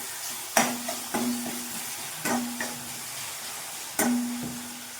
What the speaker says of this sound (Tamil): இப்போது தக்காளி நல்லா வதங்கட்டும்